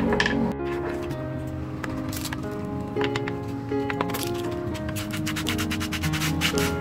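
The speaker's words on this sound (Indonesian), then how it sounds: "Pakai amplas yang kasar dulu." Coarse sandpaper rubs over a sausage-shaped fishing float in quick, scratchy back-and-forth strokes, close and fairly quiet, with a steady tonal background hum and no talk over it.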